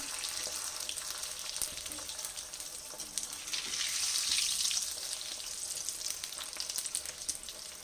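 Potato paratha, a vegetarian flatbread, sizzles and crackles steadily in hot oil in a pan, a close, continuous frying hiss with faint scraping touches and no talk.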